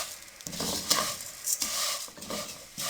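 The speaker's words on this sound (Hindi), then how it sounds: "अब सेवइयों को लो फ्लेम पे हम अच्छे तरीके से फ्राई करेंगे" Vermicelli (sevai) frying in ghee over a low flame for sheer khorma, with a soft continuous sizzle broken by several distinct scraping stirs of a spoon against the pan.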